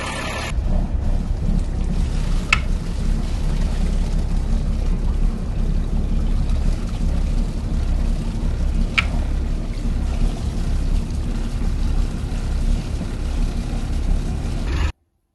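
A Lehman 120 marine diesel engine runs at a steady, loud, low rumble while drawing antifreeze during winterizing, with a couple of brief sharp clicks over the drone before it cuts off abruptly.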